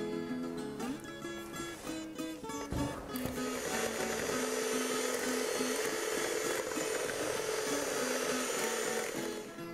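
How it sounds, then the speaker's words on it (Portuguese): Electric mixer beating cake batter containing cassava, a continuous mechanical whir that starts with some clatter and then settles into a steady, fairly quiet hum. "Depois que misturou com a colher, vamos bater com a batedeira."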